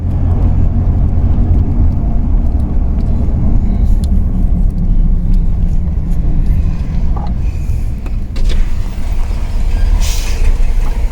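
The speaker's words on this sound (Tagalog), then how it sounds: "hindi pa rin huminto ang truck at dito na ako nag-decide na gamitin ang megaphone at pahintuin ang truck" A heavily loaded truck running on a flat tire along a highway gives a loud, steady road rumble and roar with no voices.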